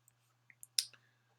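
A few quick, light clicks from a computer mouse, close and isolated against a faint steady hum, with one sharper click standing out in a quiet room.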